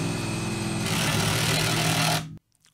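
A DeWalt Atomic compact drill/driver runs a torque test: a loud, steady motor whine with a gritty edge holds for about two seconds and then cuts off abruptly into near silence.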